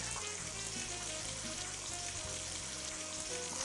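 Salmon fillet seasoned with salt, pepper and squeezed lemon sautés in a pan, giving a steady, even sizzle that holds at a constant level throughout with no voices.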